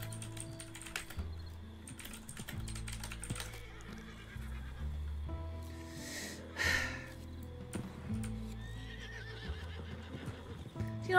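Horses whinny and snort in the Western roleplay game RedM, with hooves clopping and keyboard typing clicking in the foreground over a low, droning in-game music bed.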